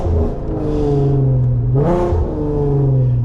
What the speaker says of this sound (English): This car is overly loud